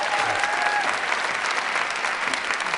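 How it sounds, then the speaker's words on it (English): Loud, dense clapping from a crowd, sustained and even throughout with no voices over it. "give a round of applause to Nico Goldstien."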